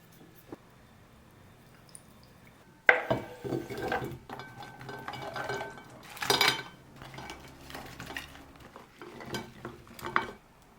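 Olive oil, red wine vinegar, salt and pepper are stirred into a salad dressing, with a spoon clinking and scraping against a bowl in bursts of irregular, close taps.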